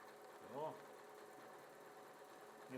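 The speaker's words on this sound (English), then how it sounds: "Now let's sew this quickly so you can see how pretty the patterns are." W6 N3300 Exklusive sewing machine stitching a decorative pattern: a faint, steady mechanical hum, very quiet, with a brief tonal blip near the start and again at the end.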